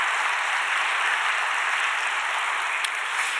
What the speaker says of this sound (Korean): 1년 동안 이 자리를 지키면서 하나님 앞에 찬양 드렸던 우리 찬양대원들 박수 한번 해주시기 바랍니다.